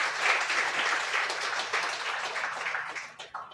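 A crowd applauds, a dense wash of clapping that holds steady and then tapers off toward the end.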